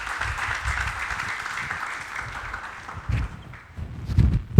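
A church congregation claps and cheers for the Lord, a sustained wash of applause from many hands, fairly close and steady, thinning toward the end with a few louder thumps.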